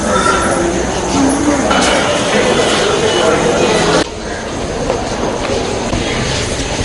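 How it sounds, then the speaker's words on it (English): Train at the Ganemulla and Gampaha railway stations, a steady rumbling rail noise with broadband clatter throughout, fairly loud, with crowd voices mixed in and a slight drop in level partway. "This was the situation at the Gane Mulla and the Gampha train stations."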